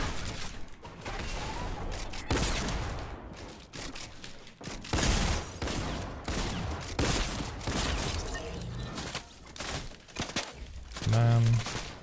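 Gunfire rattles through a Fortnite match in rapid bursts and scattered single shots, some sharp and close, some more distant, with a voice speaking now and then.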